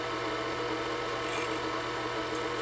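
Skew chisel taking light finishing cuts on a resin and Fordite pen blank spinning on a lathe, a steady close rasping scrape over the constant hum of the motor.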